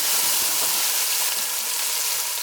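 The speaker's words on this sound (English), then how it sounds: "carrots go in, a little bit more beef seasoning, a little bit more all-purpose seasoning" Carrots and seasoning tossed together for a vegan pot roast, a loud close hissing crackle that sounds like frying, with faint stirring underneath over a short stretch.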